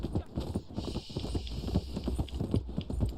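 Rapid clip-clop hoofbeats of a fast horse galloping in the Red Dead Online video game, a steady close rhythm running the whole time with a faint neigh-like tone above it.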